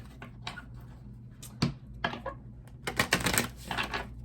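Tarot card deck being shuffled by hand, quick papery riffles and taps in short irregular bursts, close up, with a steady low hum underneath and no talking.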